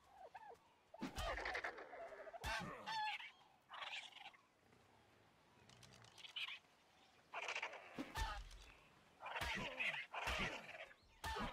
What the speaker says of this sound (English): Hey, dodo birds.